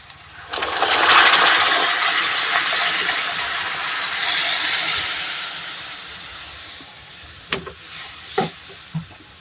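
Moth beans (matki) tipped into hot spice masala in a home kitchen burst into a loud, close sizzle that slowly fades into steady frying, followed by a few sharp stirring knocks near the end.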